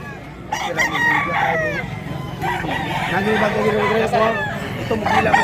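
A big Black Hennei rooster over six years old crows loudly and close in a Cebu farmyard, several rising crows and clucks overlapping, with people talking nearby.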